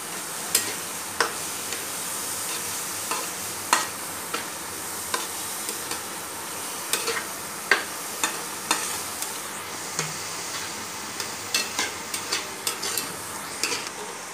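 Tomatoes and onions fry in a pan on an induction cooktop with a soft sizzle, while a spatula scrapes and taps the pan in repeated sharp clicks.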